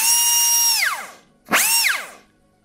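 A small handheld rotary grinding tool whines like a dentist's drill during exhaust leak repairs on a 2007 Silverado. Two close, loud high-pitched bursts each spin down, separated by a short silence.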